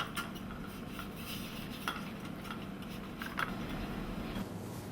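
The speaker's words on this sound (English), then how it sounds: "We're going around and around as we soften the butter" Butter being stirred around and around to soften it for puff pastry shells, a soft continuous scraping and swishing over a steady hiss, close and fairly quiet with a few light clinks.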